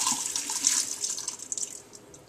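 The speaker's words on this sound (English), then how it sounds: "take the liter of vodka, just pour it over" A liter of vodka poured over the zest of 10 to 12 lemons for limoncello, a close, bright splashing pour that tapers off near the end.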